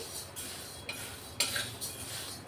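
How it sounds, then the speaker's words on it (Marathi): Coriander seeds are dry-roasted on medium heat in a large kadhai while a spoon scrapes and clinks against the metal in a few separate strokes over a soft background hiss. "हा मसाला आपल्याला मध्यम आचेवर असा भाजून घ्यायचा आहे"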